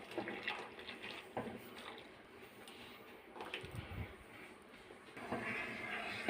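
Mulberry juice poured into boiling sugar syrup for a mulberry squash, a close, steady watery splash and gurgle that swells and fades over several seconds, with no talking.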